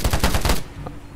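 A fast burst of automatic gunfire from a shooting video game rattles off loudly for about half a second, then cuts to quiet.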